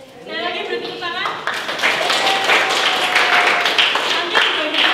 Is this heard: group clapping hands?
yes